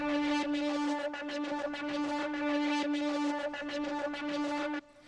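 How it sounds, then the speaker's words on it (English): Flame weapon sound made from a pulsating synth with alternating pitch, a steady bright buzzing tone throbbing in rapid regular pulses for nearly five seconds before stopping abruptly. "it's just a pulsating synth, and that is the kind of the sound of the flame"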